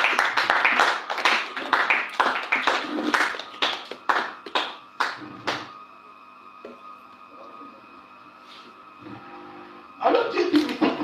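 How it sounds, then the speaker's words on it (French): A church congregation at a baptism service claps and applauds in loud, rhythmic bursts for about five seconds. A quieter stretch with a steady tonal hum follows, and then more clapping returns at the end. "On acclame le Seigneur."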